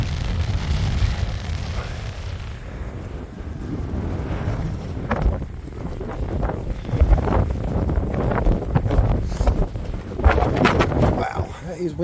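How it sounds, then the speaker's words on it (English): Strong gusts buffet the microphone aboard a sailboat riding at anchor, heavy low rumbling wind noise rising and falling in bursts throughout, with voices faintly underneath. "Wow, that is windy."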